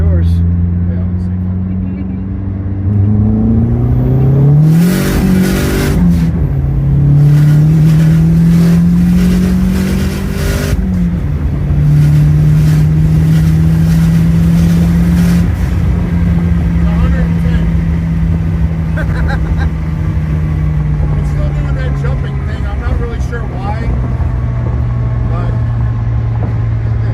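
Dodge SRT4 with an aftermarket turbo accelerating hard on high boost, its engine rising in pitch through several gear changes, loud and steady from inside the car, with people talking over it.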